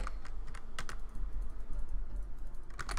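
Rapid clicking of keys on a computer keyboard during a Minecraft stream, bursts of typing at the start and end with a quieter pause between, close and clear, no talking.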